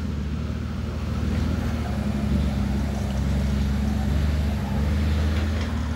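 An Isuzu FVZ 300 ten-wheel truck, stuck and sunk deep, holds a heavy low diesel rumble with a throbbing, steady drone throughout, near and fairly loud.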